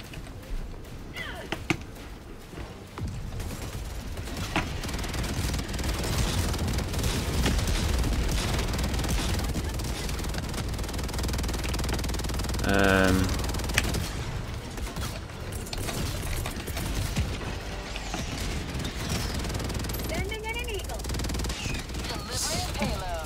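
Sentry turrets firing in Helldivers 2, a busy mechanical clatter of distant rapid gunfire that runs steadily under talking voices.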